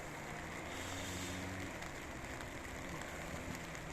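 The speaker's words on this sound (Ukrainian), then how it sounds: "Дощ фігачить." Heavy rain falling at night on a muddy hillside, a dense steady hiss of drops under a low idling engine hum, constant and close.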